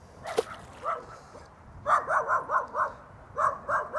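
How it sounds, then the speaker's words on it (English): A guard dog barks near a river pontoon in a quick series of sharp, fairly close barks, with a pause between groups and no talking over them. "I'm in trouble from the guard dog."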